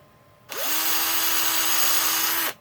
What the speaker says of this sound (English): a reamer through there to clean that up